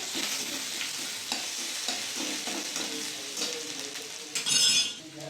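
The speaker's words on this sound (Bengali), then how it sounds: "দিয়ে দেবো অল্প সরষের তেল। দিয়ে দেবো আদা," Ginger sizzles steadily in a little hot mustard oil while it is stirred, as the base for a vegetarian bottle gourd dish. Scraping stir strokes come through up close, and a brighter burst of crackling rises near the end.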